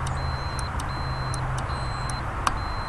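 Continuity tester beeping steadily across closed throttle position sensor wires, a repeating electronic tone of short evenly spaced beeps over a low engine-like hum, close and moderately loud.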